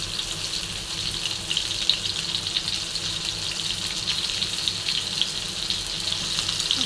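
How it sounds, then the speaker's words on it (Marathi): Bitter gourds frying in oil on a hot griddle, producing a loud, continuous hiss and crackle that holds steady throughout with no talking. "छान असे कारले तर तव्यावर टाकून घेतले."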